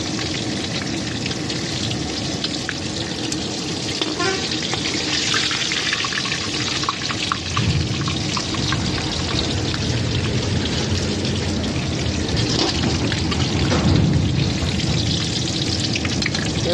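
Food fries in hot oil in a pan, a loud, continuous crackling sizzle with dense spitting pops and no voices throughout.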